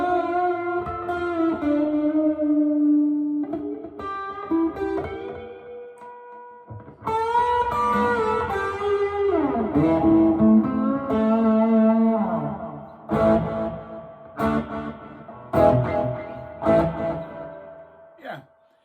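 A Fender Squier Telecaster Contemporary electric guitar rings out through effects, sustained notes and bends drenched in echo and reverb, then choppier plucked phrases with pauses, close and loud.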